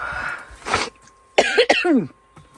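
A quick run of harsh, close coughs erupts, three or four rasping bursts with a brief wheezing catch between them.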